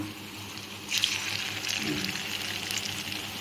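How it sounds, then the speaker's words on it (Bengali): Small pumpkin pakoras fry in hot oil in a village kitchen, giving a steady soft hiss and sizzle that swells after the first second and carries on evenly throughout, with no talking. "এরকম করে ভেজে নেবো সবগুলো।"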